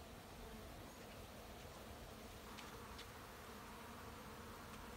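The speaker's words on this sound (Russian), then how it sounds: "Уже рой прилетел точно." A swarm of honeybees arrives at an apiary, producing a dense, steady buzzing hum that fills the air evenly at a faint, constant level with no voices.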